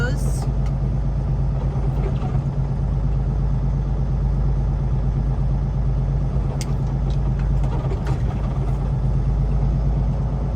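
A semi truck bobtails with no trailer attached, its engine giving a steady, loud cab-interior rumble that holds even throughout.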